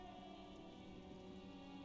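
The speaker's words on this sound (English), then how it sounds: "Stuck in the rain in a traffic jam" Steady rainfall from the video game Disco Elysium hisses as a continuous, even wash, fairly quiet and uninterrupted, with no voices.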